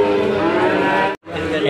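A cow lows loudly and close at a cattle market in Ambarketawang, one long sustained moo that breaks off briefly before a second lower call, with no talking over it.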